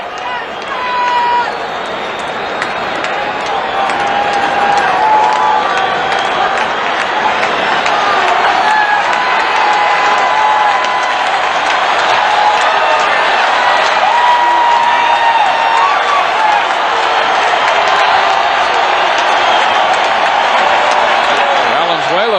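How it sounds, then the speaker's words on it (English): A large baseball crowd at the Houston Astrodome during a 1981 Dodgers–Astros playoff game, a loud, sustained roar of cheering and applause that swells and holds steady, with a commentator talking over it. "Fans for the first time tonight are sensing that they have something possibly to cheer about here."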